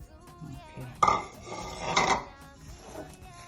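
Butter and sugar for Danish butter cookies are worked together in a bowl, with clinks and scrapes of a utensil against the dish, two sharper knocks, and quiet mixing sounds between them.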